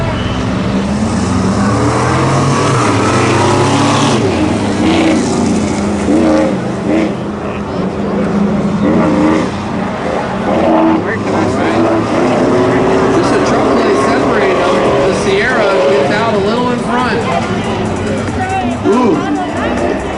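Loud, continuous engine roar from large trucks drag racing side by side, with revving and sustained drone throughout, a crowd murmur mixed underneath.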